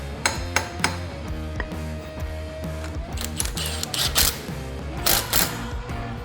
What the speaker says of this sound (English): knock the old bearings out with a punch and a hammer